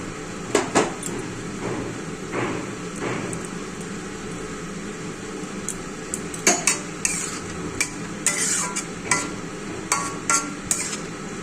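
A crushed garlic and chili mixture being stirred into a simmering pot, with repeated sharp clinks and scrapes of a spoon against the metal over a low bubbling sizzle, close and irregular.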